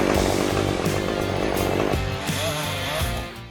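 A big chainsaw bites into a standing tree during forestry felling work, its engine roaring loud and close, dipping in pitch under load as the notch cut goes in, then revving on.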